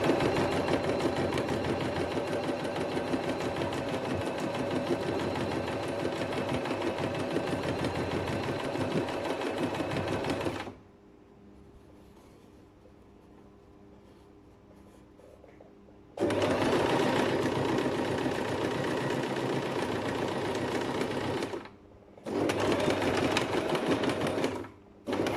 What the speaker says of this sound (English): I'm gonna start sewing. Of course, reverse stitch